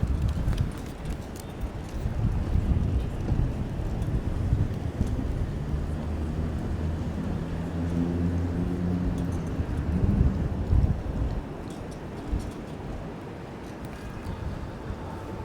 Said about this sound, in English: You can see it's very windy.